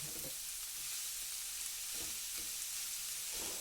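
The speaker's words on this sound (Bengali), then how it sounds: "তো দেখুন একটু নাড়াচাড়া করে কমিয়ে নিলাম, আবারও একটু দিয়ে দিলাম, আবারও এটাকে নাড়াচাড়া করে একটু কমিয়ে নিয়ে বাকি কপিটা দিয়ে দেব।" Cabbage is stirred and fried in a pan, giving a continuous hissing sizzle with soft stirring scrapes, steady and fairly quiet, with no speech.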